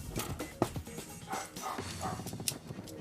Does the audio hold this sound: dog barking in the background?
yes